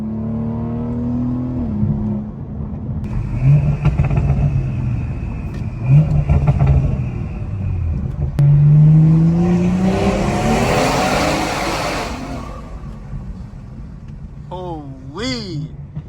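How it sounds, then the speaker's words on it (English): A turbocharged 2019 BMW 440i running on 40% ethanol revs and accelerates with deep, rising upgraded-exhaust roar, loud and close, with a whistling turbo whine as it winds up. "the exhaust just sounds so much deeper and louder"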